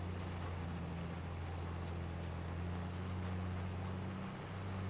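A tractor in Farming Simulator 22 pulls a load in top gear, its engine a steady, loud, low drone throughout with no voices.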